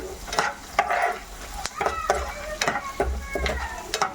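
Coriander seeds and garlic dry-frying in a pan for sambar powder, with repeated stirring and scraping clinks and a soft sizzle close by, no talk.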